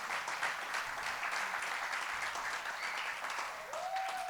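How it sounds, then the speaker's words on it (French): Applause from a church congregation, a steady dense wash of many hands clapping throughout, moderately loud and continuous without a break. "Est-ce qu'on peut applaudir notre Dieu extraordinaire?"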